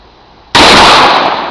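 A Ruger Super Blackhawk revolver fires a single loud, sharp shot at a target, a sudden blast after a moment of quiet that rings out and decays slowly over the following second.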